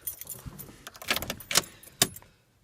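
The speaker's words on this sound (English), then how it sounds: "Let me find my keys here" A bunch of keys jangles inside a Dodge Neon in several short metallic bursts, close and fairly loud, with quiet pauses in between and no voices.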